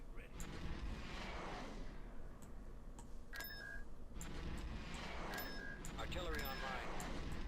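Artillery fires in the Star Wars strategy game Empire at War in dull booms under a busy battle din with beeps and unit voice chatter.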